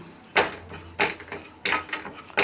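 Urad dal dry roasting in a pan, with a spoon scraping and clinking against the metal in a few quick strokes, close and fairly loud, with no talking.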